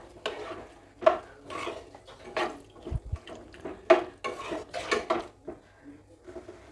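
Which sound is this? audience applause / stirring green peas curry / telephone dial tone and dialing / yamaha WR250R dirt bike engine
stirring green peas curry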